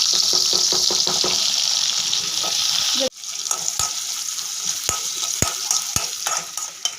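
Tomato goes into hot ghee left over from frying green chillies, setting off a dense loud sizzle that drops abruptly partway, then crackles on more thinly with intermittent stirring clicks and no voices.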